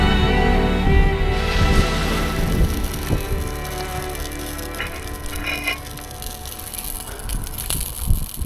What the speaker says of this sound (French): La pluie, ça donne un côté un peu mystique.